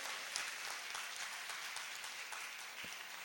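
Audience applause at a Hindi comic poetry gathering, steady and dense clapping from a crowd that holds at an even level through the whole stretch.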